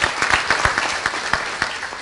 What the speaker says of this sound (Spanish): Un aplauso para los excelentes panelistas.